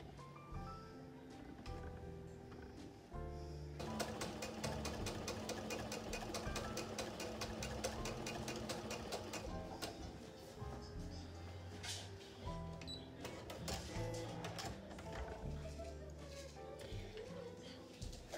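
A sewing machine stitches along a marked line on a quilted maple leaf placemat, its fast steady whir of needle strokes running for several seconds amid quieter machine hum and handling noise.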